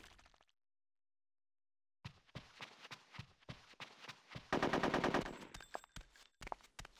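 Bursts of video game gunfire in Conker's Bad Fur Day, rapid machine-gun volleys and scattered shots after a brief silence, with a loud sustained burst near the end and no talking.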